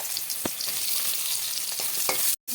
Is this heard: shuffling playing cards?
no